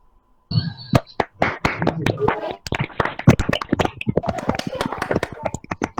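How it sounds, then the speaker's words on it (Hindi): Scattered applause from an online audience unmuting to welcome a guest speaker at a talk on language: sharp, irregular claps from several participants, fairly close, with voices mixed in throughout. "तालियों से सर का स्वागत कीजिए"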